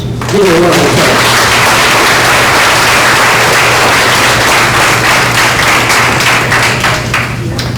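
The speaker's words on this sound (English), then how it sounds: "Give her a round of applause." A crowd at a youth program event applauds steadily and loudly, dense clapping filling the room without letup for several seconds.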